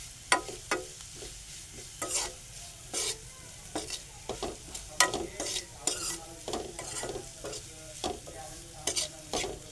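Onion sautés in a pan for puri bhaji, a soft steady sizzle broken by repeated stirring scrapes and clacks in an uneven rhythm, close and without talk.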